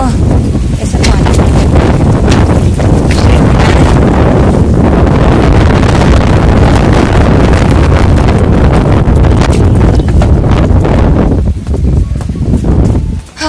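Strong wind roars on a terrace garden and buffets the microphone continuously, loud and close, with brief gusty dips near the end.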